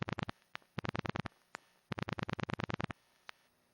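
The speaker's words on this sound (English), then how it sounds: "A pulse-dial phone system will produce a series of clicking sounds when dialing" A rapid series of sharp mechanical clicks from a pulse-dial telephone dialing, in two quick bursts separated by short pauses, followed by a couple of isolated clicks, close and crisp.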